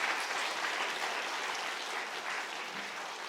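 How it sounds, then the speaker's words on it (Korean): A church congregation at a Friday evening prayer service applauds with steady, full clapping throughout, the sound filling the room evenly. "우리 박수로 한 번만 격려를 해 주시겠습니까?"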